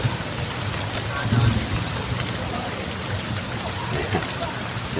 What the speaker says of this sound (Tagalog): Ayan, malakas na ulan